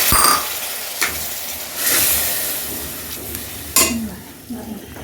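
Water is poured into a pan of frying fennel and chilli powder for egg thokku, setting off sharp sizzling hisses in a few bursts over a steady background of frying and stirring.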